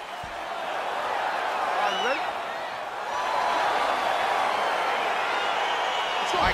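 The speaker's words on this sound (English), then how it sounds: "crowd getting excited as this fight gets underway" In the UFC 4 fighting game, an arena crowd roars steadily and swells as the fight begins, with whistles and whoops rising above the dense, continuous cheering.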